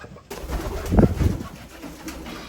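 Pigeons coo in a low, throaty burst close by, a soft rolling call rising and fading within a couple of seconds against a quiet outdoor background.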